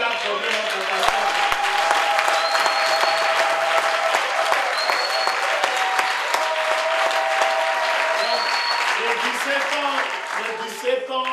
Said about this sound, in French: Est-ce qu'on peut applaudir notre pasteur?